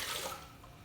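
About two cups of lukewarm water poured into a mixing bowl for beignet dough, a brief splashing rush that fades quickly.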